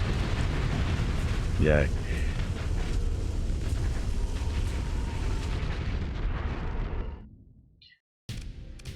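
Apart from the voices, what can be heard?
ion cannon fire and explosions in video game Starsector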